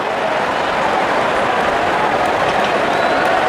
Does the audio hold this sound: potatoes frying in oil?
no